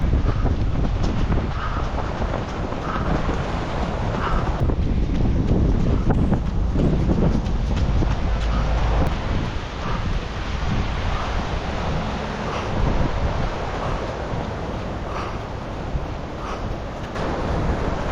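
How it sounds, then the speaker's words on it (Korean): Strong, gusting wind at a beach batters the microphone in a loud, continuous roar throughout, with surf blending in underneath; no voices. "지금 바람이 뒤에서 붑니다. 너무 강합니다."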